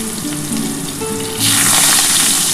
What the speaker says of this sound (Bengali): এবার এই তেলের মধ্যে আমি প্রথমে কিন্তু পেঁয়াজটা দিয়ে দিচ্ছি